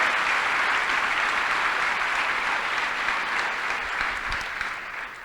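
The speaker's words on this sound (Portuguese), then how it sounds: "Aplauda o Senhor por isso" A church congregation claps together in a sustained wave of applause that stays loud and even, then gradually thins toward the end.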